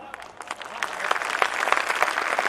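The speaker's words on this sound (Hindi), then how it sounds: "तालियां कमजोर थी आप लोगों की।" Audience applause at a Hindi kavi sammelan poetry event, a loose patter of clapping that starts thin and swells slightly, moderately loud throughout.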